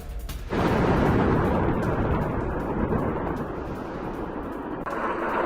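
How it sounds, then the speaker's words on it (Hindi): A sudden loud blast as a bridge over the Litani River is blown up, erupting into a long, sustained roaring rumble that stays heavy for several seconds before easing slightly. "भीषण विस्फोट में नष्ट हुआ अल कासमिया ब्रिज।"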